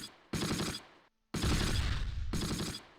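Gunfire in the Close Combat video game, rapid bursts of shots in three loud clusters separated by a short silent gap, heard alone without talk.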